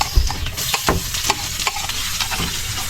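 Garlic and onion sautéing in a pan, a steady broadband sizzle with scattered clinks and stirring scrapes over about three seconds, close and moderately loud, with no talking.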